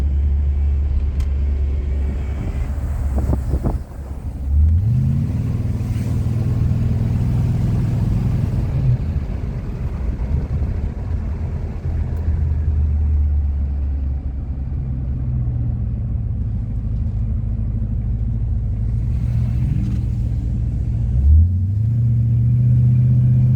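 The 8.2 liter engine of a 1970 Cadillac Eldorado accelerates with a low, heavy rumble, rising in pitch as the car picks up speed, then holding a steady drone before another upward surge, close and loud.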